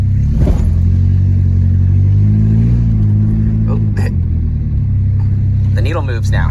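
A 1983 Volvo 242 drives along with a steady, loud engine rumble and road noise throughout, rising slightly in places, while someone talks over it.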